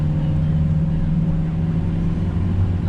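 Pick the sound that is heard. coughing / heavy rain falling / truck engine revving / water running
truck engine revving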